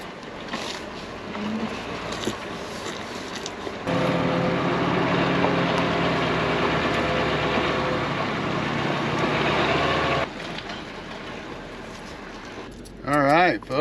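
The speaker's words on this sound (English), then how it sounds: "Pulling the sawmill up behind the dually," A dually pickup truck towing a sawmill, its engine a steady droning rumble that swells louder in the middle stretch, with a person talking over it.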